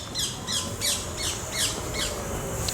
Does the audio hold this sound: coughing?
no